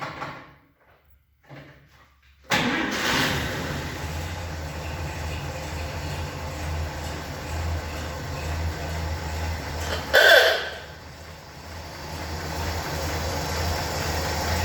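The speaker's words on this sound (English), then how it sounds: "Now, I'm gonna fire this thing up. Let's see what it sounds like with the vintage air setup." A 1954 Chevy 3100 pickup's 235 cubic-inch six with dual carbs cranks and catches after a quiet pause, then settles into a steady, close idle with a brief louder rev partway through.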